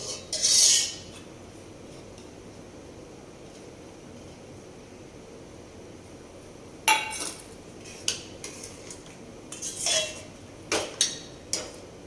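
Okra seeds roasting in a pan: a quiet steady background with scattered metallic clinks and scrapes of a utensil against cookware, a brief louder rattle near the start and a cluster of taps toward the end.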